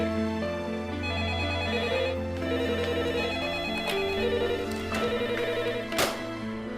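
A telephone rings continuously in a steady repeating melodic ring pattern, fairly loud and alone, with a few brief knocks near the end.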